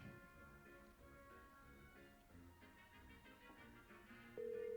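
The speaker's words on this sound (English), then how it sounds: "Oh, it's ringing." A phone ringback tone sounds over a faint background of music, and a steady electronic beep cuts in near the end.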